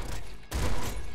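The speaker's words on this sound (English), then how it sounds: "Double bouncer laser pistol. Oh, that sounds sexy." A double bouncer laser pistol fires in the Nuclear Throne video game, a loud, dense zapping blast that swells sharply after a brief lead-in and holds for a moment.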